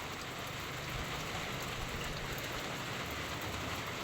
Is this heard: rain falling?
yes